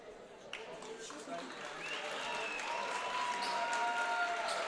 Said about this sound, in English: Baker, Treloff, and Alita Frick or Ashley Nelson getting a round of applause